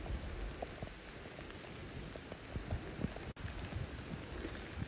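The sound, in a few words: rain falling during bike ride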